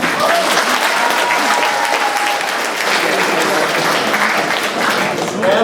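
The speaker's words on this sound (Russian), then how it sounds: "Все похлопаем" At a school last-bell ceremony for ninth graders, an audience gives sustained, loud applause, a dense wash of clapping that fills the clip without letting up.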